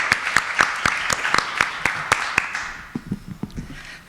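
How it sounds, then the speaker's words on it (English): A conference audience applauding at a healthcare ethics event: a steady patter of many hands clapping at a moderate distance, which thins out and fades toward the end. "I wasn't expecting applause before I even started."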